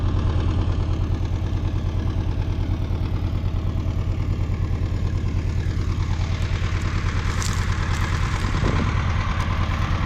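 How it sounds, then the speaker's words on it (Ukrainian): A UMZ 8240 tractor engine runs steadily, close and loud, with a constant low rumbling throb that holds through the whole stretch, without any speech. "Будемо орати трактором UMZ 8240 ем і трактор ltz 60"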